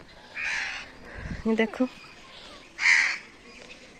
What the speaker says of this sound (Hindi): कौवे बोल रहे हैं ऊपर काय काय